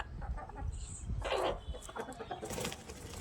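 Chickens and roosters in a backyard poultry coop, a few soft clucks and short calls scattered over low background rustling, quiet and somewhat distant with no talking.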